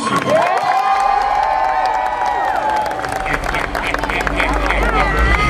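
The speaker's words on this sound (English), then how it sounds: "Give me a round of applause." A lively crowd cheers and claps, with whoops and shouting over steady applause that fills the whole stretch.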